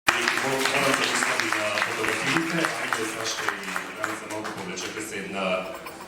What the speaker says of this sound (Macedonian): Еден аплауз ке ме молам